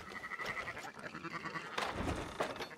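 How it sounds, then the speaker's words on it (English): Sheep bleat repeatedly in Red Dead Redemption 2, a few wavering calls over a busy ranch ambience with faint background activity. "Fine sheep."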